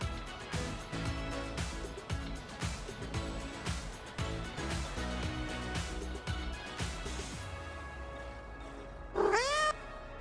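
A kitty gif in a road-trip video game gives one clear meow near the end, rising above steady background music that runs throughout.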